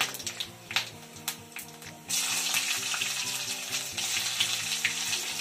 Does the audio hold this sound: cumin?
yes